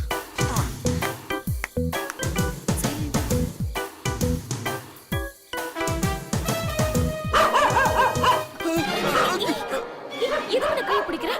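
A dog barks in quick repeated yaps amid a noisy indoor scene with people talking and music rising toward the end.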